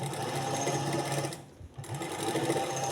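Sewing machine running along the edge of lace joined onto sleeve fabric, a close steady whirring hum with a brief dip and pause midway before resuming.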